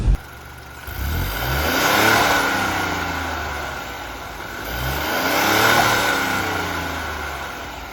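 Stock Ford Bronco Sport accelerating from a standstill to about 20 mph, the engine note climbing through two rising sweeps with a gear change between them, heard from inside the cabin with no talking.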